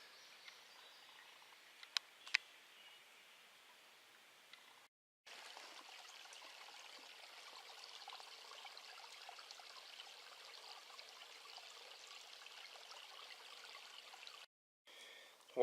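Faint, steady trickle of creek water in a wooded setting, a soft continuous wash with a couple of brief clicks near the start and short dropouts.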